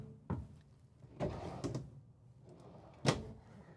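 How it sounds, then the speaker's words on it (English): Soft-close solid wood drawers in a Renegade Valencia 38RB Super C motorhome slide out with a few quiet, muffled thumps and rumbles spread over several seconds, close by and faint. "I'll just pull those out. Again, they're those soft close solid wood drawers."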